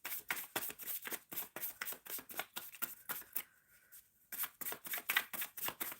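Tarot cards shuffled by hand in a rapid run of crisp riffling bursts, a brief pause near the end before the quick flutter resumes, close and fairly quiet with no talk.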